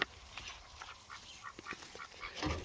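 Ducks quack in short, scattered bursts, fairly faint and a little distant, over quiet background noise.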